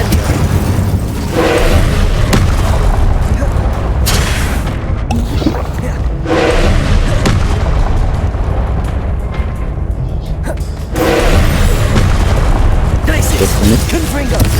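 Incendio fire spell blasts in Hogwarts Legacy, a dense run of heavy booming bursts and rumbling explosions filling the clip, loud and close, with a voice shouting over the combat.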